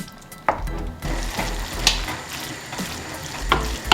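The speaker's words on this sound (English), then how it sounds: "So I'm just gonna drain it off and then add it to the mince." Cooked spaghetti drained and tipped into a pan of mince, giving a watery sizzle with splashing and stirring, several sharper clatters standing out against a steady background.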